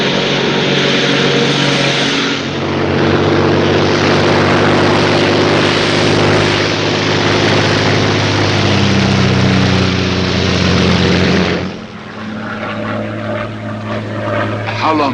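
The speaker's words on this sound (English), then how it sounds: "a Royal Air Force plane is waiting for us at a secret landing place." A Royal Air Force propeller plane drones in steady flight in a 1942 wartime film, a loud continuous engine roar that dips and shifts near the end.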